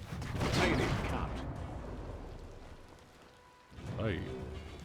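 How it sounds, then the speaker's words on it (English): Steady hiss of rain falling in the Biomutant game world, a broad wash sitting under a voice talking over it, with a couple of louder bursts of game action breaking through. "Hope this rain is warm."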